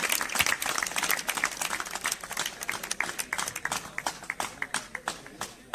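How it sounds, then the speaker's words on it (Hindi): A crowd at a new year party at an academy gives a warm round of applause welcoming a speaker to the stage, loud at first and thinning into scattered individual claps near the end. "जोरदार तालियों से स्वागत करें सुरेंद्र सर का।"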